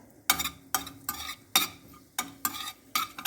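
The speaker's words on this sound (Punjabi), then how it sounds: "ਆਪਾਂ ਬਟਰ ਪਾ ਲਿਆ ਪੈਨ 'ਚ ਥੋੜਾ ਆਪਾਂ ਪਾਵਾਂਗੇ ਇਹਦੇ ਵਿੱਚ ਜੀਰਾ" Cumin seeds sizzling in butter in a pan, heard as six short bursts of crackling hiss from stirring, each lasting a fraction of a second and separated by quieter gaps, fairly close, with no voices.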